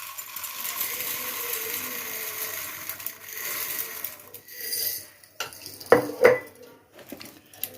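Rock sugar (kalkandu) tumbling into a metal pot for milk pongal, with scattered clinks and scraping and two sharp rattling impacts near the end, close and moderately loud, no talk.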